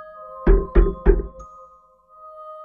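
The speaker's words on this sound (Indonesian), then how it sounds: "Ada suara seperti itu di jendela kamar, seperti ada yang mengetuk-ngetuknya dari luar." Three firm knocks on a wooden bedroom window from outside, evenly spaced and loud, followed by a lingering tonal hum, with no talking.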